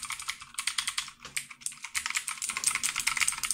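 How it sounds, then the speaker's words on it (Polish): A Genesis mechanical keyboard with blue switches being typed on up close, bursts of sharp clicky keystrokes with short pauses between runs, steady and fairly quiet. "A teraz piszę po tej."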